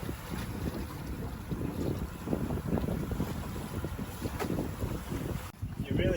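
Wind roars steadily across a sailboat at sea, a dense, blustery rush with low buffeting on the microphone and faint water and rigging noise beneath, continuous and close.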